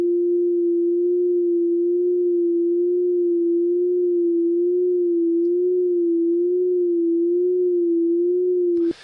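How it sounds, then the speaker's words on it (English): A sine tone fed through a chorus device with a varying delay time wobbles gently and slowly in pitch, steady and alone, then cuts off abruptly in a brief burst at the end. "putting a sine wave through a chorus device, and then we'll see how it's changing the pitch of the sine wave"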